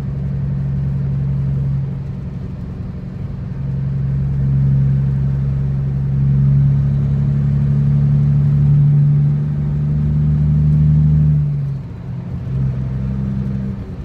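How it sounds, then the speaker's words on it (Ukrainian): A car crawls into heavy weekend road traffic on a wet highway, with a steady low engine drone and rumble throughout that swells slightly in the middle and eases near the end. "Так, і ось цей трафік вже я в нього в'їжджаю."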